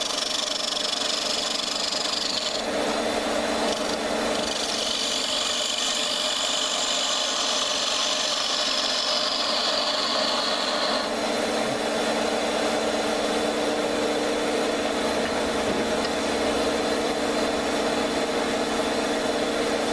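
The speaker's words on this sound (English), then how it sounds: "I'll just take the parting tool and straighten it up." A wood lathe spins a workpiece for a throw top as a parting tool squares up its end, giving a steady, close mechanical whir with a brighter cutting hiss during the first half.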